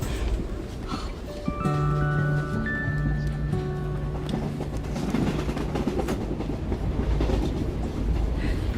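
Inside a moving train, the wheels clatter steadily on the rails with a continuous rumble, and a long tonal whine sits over it for a few seconds partway through.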